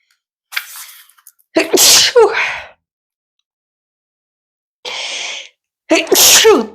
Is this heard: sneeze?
yes